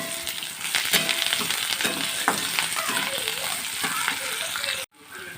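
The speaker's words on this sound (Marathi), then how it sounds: "आता हे चांगलं परतलेलं आहे" Upma ingredients sautéing in ghee in a pan, a close, busy sizzle with scraping stirs and clinks that cuts off abruptly near the end, followed by quieter room noise.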